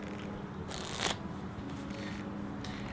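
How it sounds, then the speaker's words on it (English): Soft riffling and flicking of playing cards being shuffled, with one brief louder burst of cards, close by and otherwise quiet. "we're going to be shuffling up the cards."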